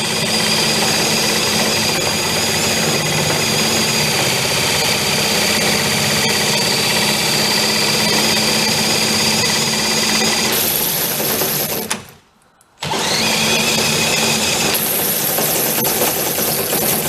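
A small boat's engine runs loud and close with a fast, buzzing putter, steady under light throttle, then cuts out for about a second before starting again and running on.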